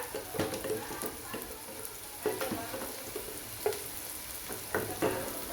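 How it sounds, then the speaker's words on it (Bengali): Turmeric, chili, cumin and coriander powders stirred in a hot pan for Katla fish head curry: a soft steady frying sizzle with repeated scraping strokes of a spoon every second or so, no voices. "এখন সবগুলো উপকরণ ভালো করে নেড়েচেড়ে দিতে হবে।"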